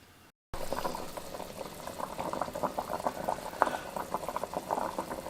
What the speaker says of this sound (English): Now I'll put in the cabbage and let that cook.